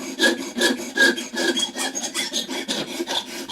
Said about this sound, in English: I don't want to sand it flat on top, so I kind of go, at angles like so